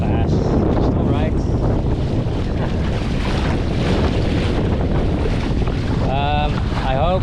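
Strong wind roars across the microphone while a solo sailing canoe with two reefs moves fast through open water off West Sweden, a dense continuous rush with water hiss, briefly overlaid by a voice near the end.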